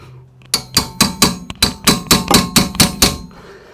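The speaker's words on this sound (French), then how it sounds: "Et mon marteau, on va la choquer un petit peu pour le serrage" A hammer strikes a socket wrench about ten times in a quick, even series of sharp metallic taps, tightening a rear wheel bearing bolt on a small car such as a Peugeot 107, Citroën C1 or Toyota Aygo, close and loud.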